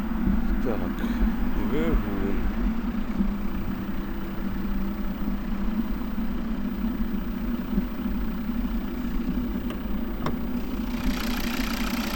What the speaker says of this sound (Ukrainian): знаменитого Д3 двигун, 2-літровий п'ятициліндровий